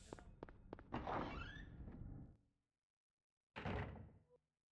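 In the Silent Hill video game, a door opens with a creaking thunk and scraping, then the sound cuts to dead silence before a second heavy door thud closes it off.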